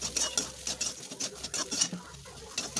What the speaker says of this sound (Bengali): মটরশুঁটি, বিট, গাজর এগুলোকে দিয়ে দিলাম। এগুলো দিয়ে তেলের সঙ্গে এগুলো একটু 1 মিনিট ভেজে নেব